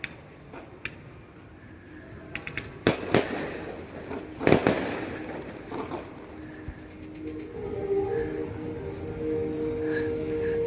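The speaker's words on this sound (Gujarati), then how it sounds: "અહીંયા છે ને ફટાકડા ફૂટે છે." Firecrackers burst at a distance during a trip in Udaipur, with several sharp cracks and pops scattered over a steady outdoor background murmur.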